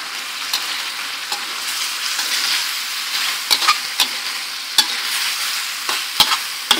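Yard-long beans stir-fried in a pan for a Thai sweet-and-sour dish: a steady hiss of frying with sharp, irregular scrapes and clacks of the spatula against the pan, close and loud, with no voices.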